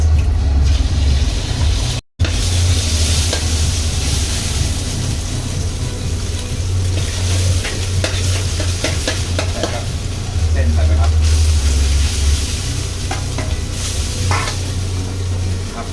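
Noodle ingredients stir-frying in a wok over high heat, with a continuous loud sizzle and a low roaring burner beneath it, broken by scraping and clinking of a spatula against the metal.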